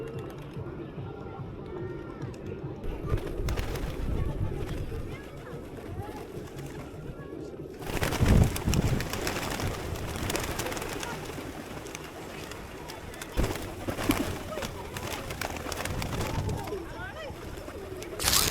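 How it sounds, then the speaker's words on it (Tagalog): Pigeons coo near a church in Almaty, Kazakhstan, a soft murmuring under steady talking and general outdoor bustle. Thumps and movement noise come and go throughout. "mas maraming kalapati today"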